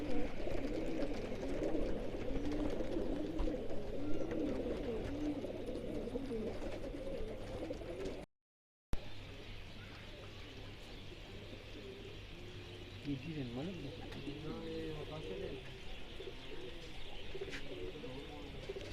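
Flying pigeons coo repeatedly in a rooftop pigeon-flying session during a contest with a rival's flock, soft throaty calls rolling over a steady low hum, with a brief dropout midway.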